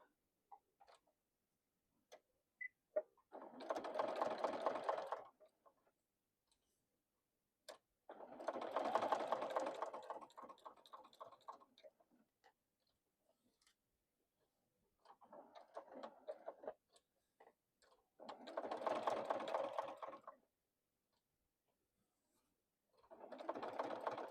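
A sewing machine stitches a piece onto a handmade Christmas decoration in five separate bursts of steady, rapid whirring, each a few seconds long, with quiet pauses between and no talking.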